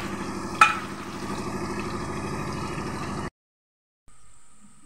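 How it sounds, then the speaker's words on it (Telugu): Onions and green chillies frying in hot oil in a pan for mutton curry, a loud continuous close sizzle with a brief clatter near the start, then a short silence and a fainter sizzle resuming. "ఫస్ట్ నూనెలో వేడి నూనెలో ఉల్లిపాయ పచ్చిమిర్చి ఇలా వేసేసుకొని మంచిగా ఇవి ఎర్రగా వేగిన తర్వాత"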